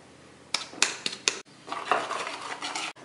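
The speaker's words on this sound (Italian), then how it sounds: "metto all'interno di un contenitore i tuorli con lo zucchero e li vado a spumare" Egg yolks and sugar are whisked in a container, a few sharp clinks of the whisk against the side, then a stretch of rapid scraping swishing, close and clear with no talk.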